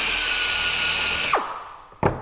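A drill bores part way into a rivet on an aircraft rudder being re-covered, a loud steady whine for over a second that drops in pitch as the bit bites, then a short second burst after a brief pause.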